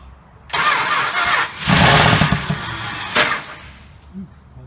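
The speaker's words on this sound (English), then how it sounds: "That's the starter." A 1968 Chrysler 300 with a 440 TNT V8, starter cranking briefly, then the engine catching with a loud rough burst, settling and revving again before dropping to a low idle, close by.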